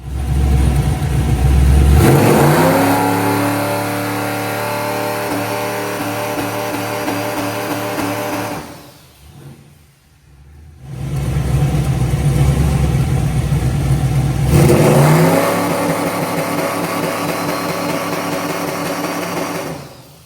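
A truck engine revs hard on a dyno, a loud sustained roar that climbs in pitch, drops away briefly to near idle, then surges back to high RPM, close and continuous.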